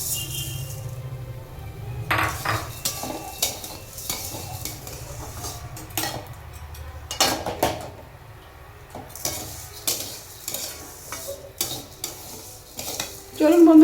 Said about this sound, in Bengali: আমরা কড়াইতে ঘি দিয়ে দিয়েছি। এবার আমরা সিমাইটাকে একটু ভেজে নেব।